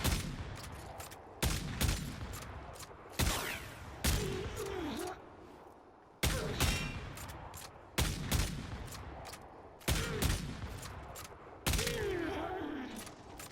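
Twin Rogga sawed-off shotguns in Warframe fire in sharp, heavy blasts, roughly eight evenly spaced booming shots over about thirteen seconds, each with a short ringing tail and faint whirring effects between them.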